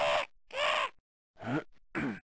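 Four short, harsh bird calls from a shareware video game come in two pairs separated by a gap, each a squawking cry with no background sound.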